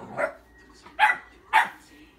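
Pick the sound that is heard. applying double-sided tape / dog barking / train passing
dog barking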